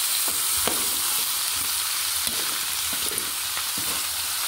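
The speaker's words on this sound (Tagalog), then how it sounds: "Ilagay na po natin yung ating karne." Turkey meat fries for adobo in a hot pan, giving a steady, bright sizzle with occasional stirring scrapes and pops throughout.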